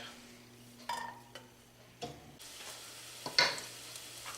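Garlic hits hot olive oil at the start of a chicken vegetable soup, giving a faint, low sizzle broken by a few soft clinks and stirring taps against a quiet kitchen hum.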